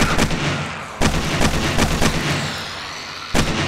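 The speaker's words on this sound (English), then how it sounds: "I don't know if you can hear me over shooting. It's pretty loud. AK-47 is pretty loud" Rapid AK-47 bursts in the 7 Days to Die video game crack loudly and close, a steady rhythm of sharp shots broken by short pauses, with no voice over them.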